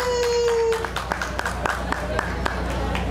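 Spectators at an Okinawan island fair in a Naha ballpark clap to vote for a favorite local mascot; a held tone fades out and a loose patter of handclaps rises, uneven and fairly sparse, continuing to the end.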